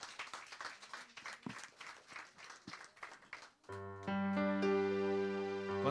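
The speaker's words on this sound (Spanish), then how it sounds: "Dele un fuerte aplauso al Rey de Gloria." Congregation at a Spanish-language Sunday church service claps in a loose, uneven patter of separate hand strikes, then sustained keyboard or organ chords come in and carry on steadily to the end.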